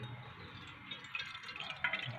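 Water poured into a pot while making rose water, a steady trickling and splashing stream running throughout with a few brighter splashes toward the end, close and fairly quiet.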